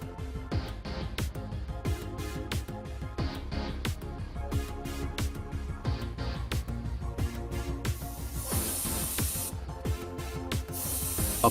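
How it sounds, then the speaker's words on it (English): Airbrush spraying a second coat of VMS varnish onto a scale model: a steady close hiss broken by many short bursts as the trigger is pulsed, ending in longer continuous sprays. "Let's spray a second coat to make it look perfect."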